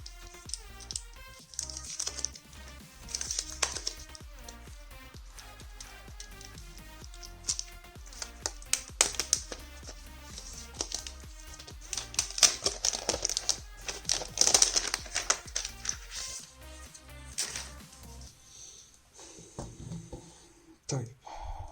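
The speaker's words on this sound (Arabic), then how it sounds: "طيب نجرب كده نكتب عليها" Typing on an Apple Magic Keyboard, quick quiet key taps in uneven bursts over about twenty seconds, close and faint with no talking.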